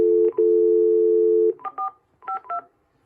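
A landline telephone gives a steady dial tone that breaks off, followed by a short run of separate touch-tone dialing beeps, loud and clear with no talking.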